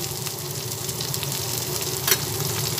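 Tomato, turmeric and spices fry in a pan with a steady, close crackling sizzle and a brief sharper hiss near the end, with no voices.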